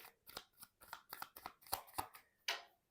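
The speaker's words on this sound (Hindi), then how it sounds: "Last shuffle." Tarot cards being shuffled in a riffle-like series of crisp, papery flicks and slaps, close and fairly quiet, ending with a sharper final burst.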